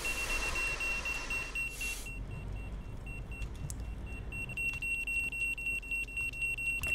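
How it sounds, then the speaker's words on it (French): A smoke alarm in a firefighting simulation video game sounds a rapid, evenly pulsed high beep, cutting out briefly near the two-second mark before resuming, over a steady low engine-like rumble. "Quelqu'un peut éteindre cette putain d'alarme?"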